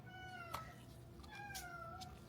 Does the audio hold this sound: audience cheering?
no